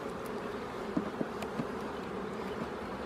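Honeybees hum steadily around an open beehive during a spring colony inspection, a close continuous drone with a few soft clicks and knocks from handling; no speech.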